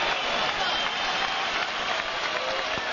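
A large arena crowd at a Roy Jones Jr. versus Jorge Fernando Castro boxing match in Pensacola applauds and cheers, a dense, continuous roar of clapping and voices that stays loud throughout.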